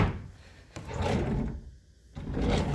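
Deep hotel room drawers at a Great Wolf Lodge are pulled open and pushed closed, making loud, close wooden sliding rumbles and thuds split by a short pause.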